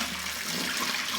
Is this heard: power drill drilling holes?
no